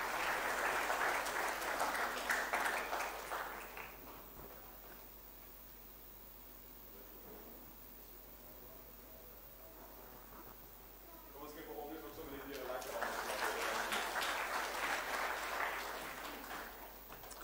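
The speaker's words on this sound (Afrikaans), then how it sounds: "Kom ons gee vir almal 'n baie lekker hande klap." A church congregation applauds at a service in a broad burst of clapping. The clapping fades to quiet talk and then swells again into a second round of applause.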